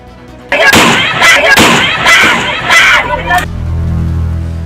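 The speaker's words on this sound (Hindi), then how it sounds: "मुरैना की धरती एक बार फिर गोलियों की तड़तड़ाहट से गूंज उठी।" A rapid burst of loud gunshots rings out in quick succession in Morena, Chambal region, India, then fades into a low rumble and distant murmur.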